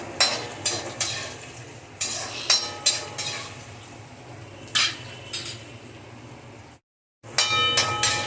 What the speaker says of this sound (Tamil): பூண்டு கொஞ்சம் நல்லா வதங்கட்டும்.